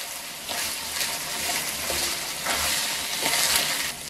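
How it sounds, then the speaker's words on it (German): Minced meat fries in a pan once its juices have cooked off, making a steady close hiss with sizzling swells that rise and fall, and no one speaks. "Sobald der Fleischsaft verdunstet ist, das merkt man, weil es dann zu braten beginnt"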